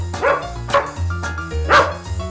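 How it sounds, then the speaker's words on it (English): A small puppy barks in quick, close, loud yaps, about four sharp bursts over a low background hum with no one speaking. "It's just a friendly little puppy, okay?"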